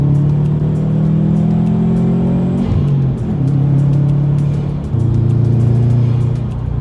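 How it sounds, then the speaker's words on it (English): A turbocharged Subaru WRX hatchback engine pulls hard and close, its drone climbing in pitch, dipping briefly with each shift, then climbing again. "Like, like the turbo noises, man."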